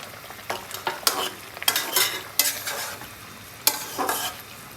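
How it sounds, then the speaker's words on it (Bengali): Tomatoes are stirred into vegetables frying in a pan for a fish curry, with a soft background sizzle and repeated scraping strokes of a spoon against the pan, close by and without talking. "এখন আমি টমেটোটা দিয়ে দিচ্ছি"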